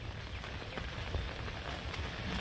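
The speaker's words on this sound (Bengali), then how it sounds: "বাবা এত সময় বৃষ্টি হইলো রে" Rain falls on a Bangladeshi village in a constant dense patter of drops on surfaces, steady and fairly close, with no talking.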